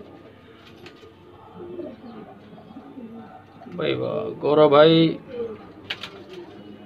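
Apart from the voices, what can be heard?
pigeons cooing in breeding loft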